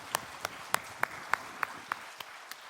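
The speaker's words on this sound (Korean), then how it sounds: "손 높이 들고 박수하며" A church congregation claps in a steady rhythm during a New Year worship service, about nine evenly spaced claps at a moderate distance, fairly faint, with no talking.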